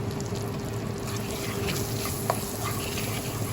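Vegetables stir-fry with a Nongshim noodle spice mix in a pan, giving a soft steady sizzle with light stirring scrapes and one brief clink, moderately quiet and without voices.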